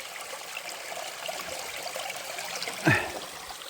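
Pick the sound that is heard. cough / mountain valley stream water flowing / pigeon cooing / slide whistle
mountain valley stream water flowing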